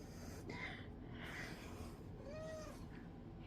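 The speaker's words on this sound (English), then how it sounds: "And my cat has joined me" A house cat meows softly a few times nearby during a paper-scrap craft session, the faint calls rising over a steady background hiss with no talking.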